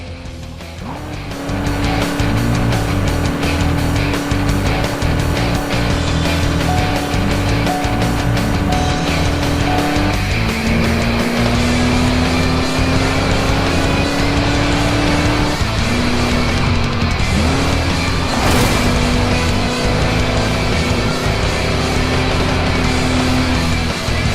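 Game cars race in Crash Time V, with a constant loud engine drone whose pitch shifts with gear changes, tire squeal and skidding, and traffic noise throughout.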